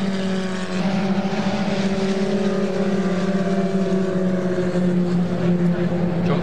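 Historic Formula Ford racing cars, a pair of Lotus 61s at Donington Park, roar steadily and fairly loudly with a sustained, droning engine note that holds evenly throughout.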